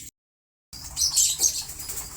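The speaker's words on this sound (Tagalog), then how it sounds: "magpapatukan muna tayo ng mga alaga nating ibon" A short burst of wing flapping and soft chirps from pigeons after a brief silence, close by with scratchy movement around them.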